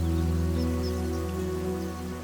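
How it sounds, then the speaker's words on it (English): Steady rain falls across the Serengeti plains in leopard country, a dense even patter that continues throughout, accompanied by a low constant hum. "As the rain falls, tiny rivulets fill up and merge."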